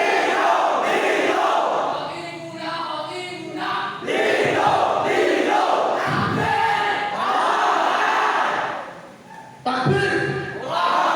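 A crowd of students at an Islamic boarding school preaching contest shouts loudly and continuously in unison, a dense roar of voices filling the hall with brief dips between bursts.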